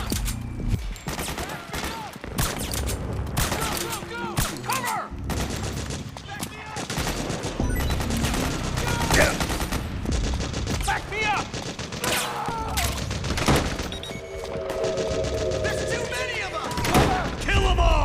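Sustained rapid gunfire in Metal Gear Solid 4, dense bursts of automatic fire and shots layered over battle noise and game music for the whole stretch, with voices shouting at times.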